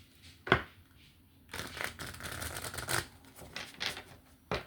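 A deck of tarot cards is shuffled by hand, with several riffling bursts and sharp card snaps close up, broken by brief pauses and faint handling noise.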